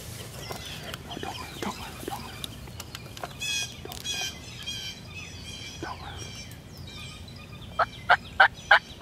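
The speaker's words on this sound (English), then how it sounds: "We got a bunch of toms on the ground over here." Wild turkey toms gobble repeatedly outdoors in spring, rattling calls overlapping at middle distance, with a rapid series of loud, close gobbles bursting out near the end over steady background noise.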